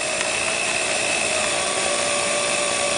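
A power drill bores through particle board with a steady, continuous high whine that holds at an even, fairly loud level throughout, with no talking.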